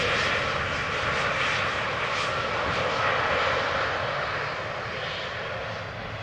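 KLM airliner at Amsterdam Schiphol decelerating on the runway, a broad steady roar of jet engines with a whooshing hiss that stays loud and fades slightly toward the end, no voices.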